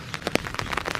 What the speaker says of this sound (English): It's starting to rain a little bit more.